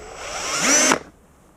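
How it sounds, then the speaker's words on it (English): Cordless power drill fitted with a 7/32 bit boring a hole while mounting an auxiliary light on a Husqvarna dirt bike; one short whine rises in pitch over about a second, then cuts off abruptly, close and fairly loud. "We're going to line this up with the edge, and then I'm going to drill a hole up here,"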